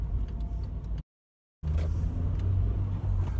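A car drives through a crossroads while turning, giving a steady low engine and road rumble with a brief dropout of total silence partway through.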